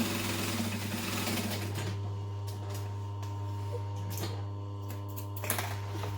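A sewing machine runs steadily, stitching the lining of a tote bag shut with a constant whirring hum and fine mechanical ticking, close and alone with no voices.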